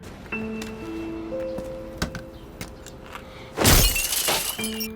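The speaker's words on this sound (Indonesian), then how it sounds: "Freddy merusak kaca jendela mobil Choi" Car window glass smashed in a single loud, sharp shatter with a crash of breaking shards, standing out sharply after quieter ticking and faint background sounds.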